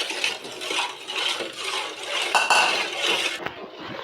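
A spoon stirs vermicelli payasam in a metal pot after sugar and ground cardamom go in, giving a steady run of scraping and light clinking that is close and fairly loud, with no talking.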